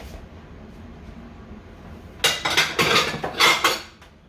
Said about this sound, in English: I'm gonna put dishes away.